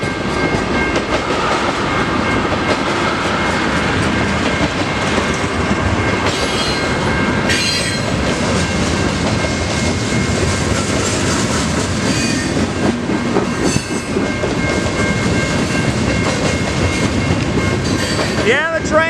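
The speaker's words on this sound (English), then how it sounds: "the train's right down there" CN mixed freight train with two engines passing the Emmons Blvd railroad crossing in Wyandotte, Michigan: a loud, continuous rumble with rhythmic wheel clatter and occasional squeals for the whole stretch, with people talking faintly underneath.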